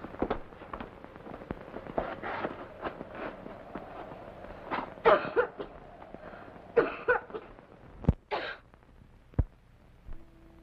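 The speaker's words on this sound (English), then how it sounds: "No, it's only the cough." Several harsh coughs break out at uneven intervals, close by, alongside sharp knocks and a low background murmur.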